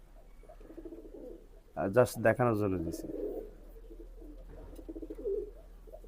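Imported Pakistani pigeons coo in low, repeated throaty pulses in a breeding setup, while someone speaks loudly over them partway through.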